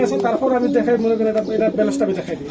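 Pigeons on a farm with hens sitting on eggs, their low cooing mixed with steady bird chatter, close and continuous, with people talking over it.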